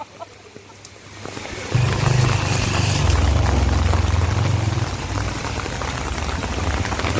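Steady rain falling outdoors near a school in the Garhpanchkot hills, a dense hiss of drops that swells louder after the first couple of seconds, with low rumbling beneath, continuous and close.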